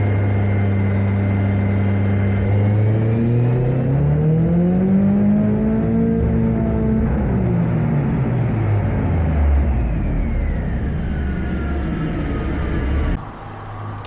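A Nissan S13 engine revs on a dyno with a slipping clutch, its loud droning whine sweeping up to around 5,500 rpm and then falling away before it cuts off abruptly near the end.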